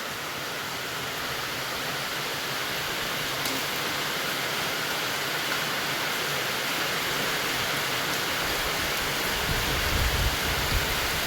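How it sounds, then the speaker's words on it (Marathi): Steady rain falls around a house in the monsoon, a dense even hiss of drops on surfaces that stays constant and moderately loud throughout, with a faint low thump near the end. "तुमच्याकडे पण पडतोय का पाऊस सांगा जरा"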